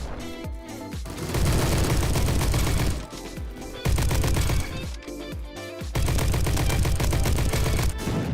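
Gunfire in the Roblox shooter Bad Business: loud, close bursts of rapid shots in three sustained volleys separated by brief pauses, each with sharp attacks and a ringing tail.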